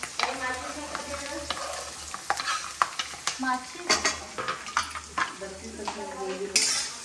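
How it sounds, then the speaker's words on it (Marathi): Chopped onion goes into a hot pan during a Konkan home-cooking session, sizzling as a utensil scrapes and stirs it in repeated strokes with clinks against the pan, up close, with no talk over it. "आता मी कांदा टाकून देते"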